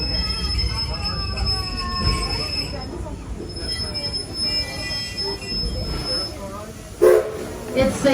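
Greenfield Village Railway train slowing to a stop, with steady rumbling wheels on track and faint high metallic squeal throughout, a brief louder burst near the end; a voice speaks faintly underneath.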